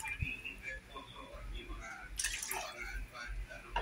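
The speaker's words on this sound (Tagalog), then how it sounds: "Mag-add tayo ng tubig" Water is poured into a cooking pot for Filipino pancit bihon noodles, a splashing, dripping pour under a woman's speech, with a louder gush partway through.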